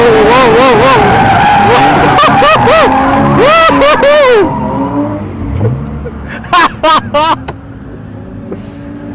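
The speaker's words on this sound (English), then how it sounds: "We've had a crash." A car on a track ride skids with loud, wavering tire squeals, then crashes, followed by further short squeals in the distance; excited voices shout over the commotion.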